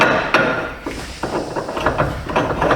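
Sharp metallic knocks of a slide hammer repeat in an uneven series while working on a 2010 Chevy Impala rear bearing, several close impacts with a clattering workshop feel, no talking.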